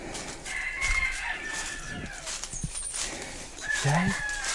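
Chickens and a rooster on a farm with coop enclosures, clucking and crowing at close to moderate range over steady outdoor background noise, with a short louder crow near the end.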